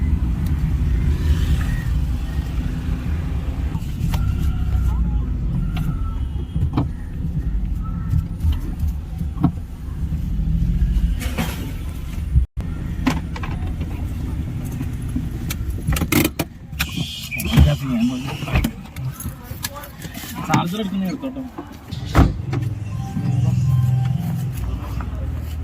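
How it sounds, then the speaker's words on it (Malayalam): A car drives up to a railway station and parks, its engine and road rumble steady and close, broken by clicks, thumps and a sharp knock partway through, while people talk over it now and then. "നമുക്ക് നേരെ വണ്ടി പോയി പാർക്ക് ചെയ്യണം."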